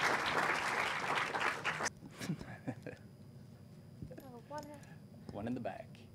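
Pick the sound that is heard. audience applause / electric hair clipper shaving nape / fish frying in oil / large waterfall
audience applause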